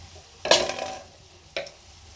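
Spices with potato and pointed gourd are stir-fried in a pan, giving two short scraping stirs with a faint sizzle between them, close and alone.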